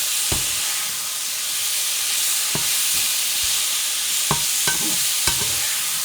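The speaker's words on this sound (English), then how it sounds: "So we want to get that meat nice and browned." Minced meat browning in a pan on the stove, giving a steady sizzling hiss with occasional soft knocks of a spoon stirring it.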